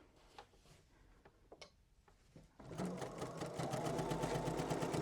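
A sewing machine does edge stitching with an edge stitching foot, starting after some quiet ticking and handling and then running steadily and fast with a rapid rhythmic clatter.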